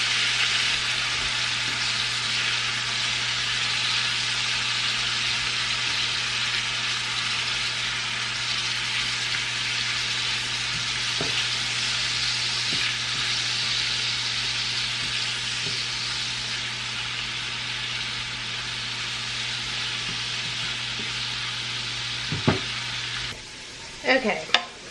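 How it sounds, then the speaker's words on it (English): Shrimp fry in a small pan, giving a loud, continuous close sizzle that holds steady throughout, with a few faint clinks near the end. "This is super fast. Shrimp will be done in a minute."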